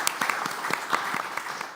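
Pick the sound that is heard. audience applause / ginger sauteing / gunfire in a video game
audience applause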